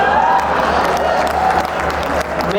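Audience applause fills a Hindi poetry recital hall in Delhi, a dense, steady wash of clapping from a large crowd that continues loudly throughout with no break.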